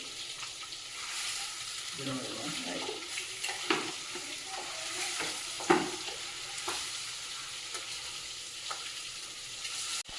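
Eggs coated in turmeric, salt and chili powder frying in oil: a continuous close sizzle with occasional louder crackles and spatters, plus a few faint clinks.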